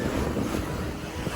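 Wind gusts across a sailboat out on Lake Michigan, a brief, dense rush of roaring wind buffeting the microphone with low water wash underneath.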